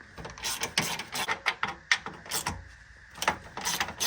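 Ratchet wrench loosening the condenser bolts on a Lexus LS430, a close series of rapid clicking bursts with short pauses between strokes.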